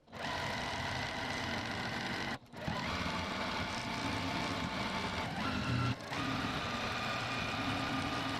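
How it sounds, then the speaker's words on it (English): Sewing machine stitching quilting seams on a gingham pillow case, a close, continuous mechanical whir with two brief pauses where the stitching stops and restarts. "to my sewing machine, and I'm just going to sew 1/4 of an inch on both sides of my vertical seams"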